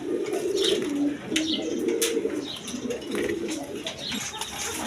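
A pair of Lahori Sherazi pigeons coo in soft, repeated low rolls, nearby and steady throughout.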